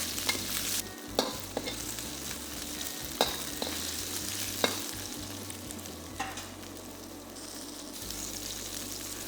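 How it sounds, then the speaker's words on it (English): French beans, carrots, ginger, garlic and chili stir-frying in a pan, with a steady close sizzle broken by repeated sharp clacks and scrapes of a spatula tossing the vegetables; no one speaks. "Fry all this for about a minute or two till they are tender."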